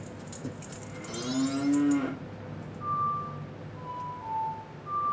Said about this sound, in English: And then there's just a cow down here.